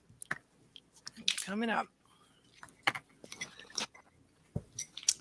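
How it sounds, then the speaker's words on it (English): A short, wet slurp of a drink taken close to the microphone, surrounded by brief mouth clicks and quiet talking. "Pardon me while I slurp in your ears."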